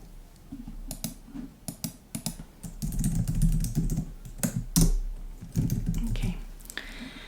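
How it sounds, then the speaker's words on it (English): Fingers typing on a computer keyboard up close, with quick bursts of sharp key clicks and brief pauses, then a denser run of keystrokes in the middle, no speech. "let me just quickly write it down, or rather type it."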